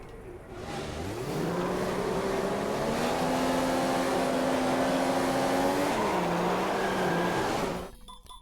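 Several F1 2015 race cars in a video game rev hard together at the start of the Bahrain round, a steady loud engine roar with rising pitch sweeps that dips briefly, then cuts off abruptly.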